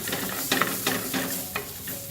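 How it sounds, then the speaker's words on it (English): Garlic sauteing over a medium flame in a clay pot gives a soft, steady sizzle and hiss, broken by a few light stirring clicks over two seconds. "Turn the flame on at medium and saute the garlic."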